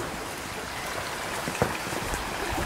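A rain-swollen stream rushes steadily past trees near a small waterfall, a continuous broadband wash of flowing water heard close and alone, with one brief splash or knock partway through.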